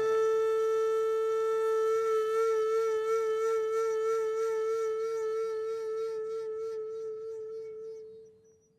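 A sustained shakuhachi tone holds one steady pitch, its breathy note wavering in a slow vibrato made by moving the neck, before fading out, played alone and close.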